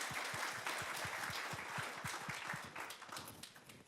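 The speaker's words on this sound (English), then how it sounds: "So give yourselves a round of applause" An audience at an evening event on wrongful convictions and exonerations in Missouri claps at a brisk, even pace. The clapping sounds faint and a little distant and tapers off toward the end.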